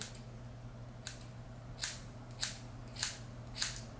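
Scissors point-cutting short pixie hair, a few sharp snips spaced about half a second apart over a steady low hum, with no talk.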